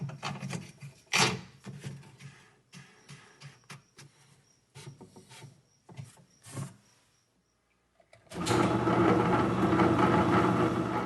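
A saw slices thin and thick slabs from a large rounded Montana agate, making a rasping, grinding sound that pulses unevenly. A brief quiet gap follows, then a louder steady cutting roar.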